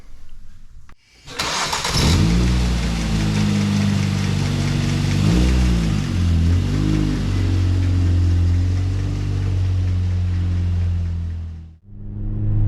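A 2005 Ford Focus engine cranks briefly, catches and settles into a steady running idle with slight revs, loud and close, cutting off near the end.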